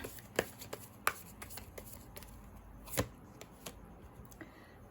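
Tarot cards being shuffled by hand in a quiet room: soft papery riffles and a few sharper slaps at irregular moments, close and fairly faint, with no talking.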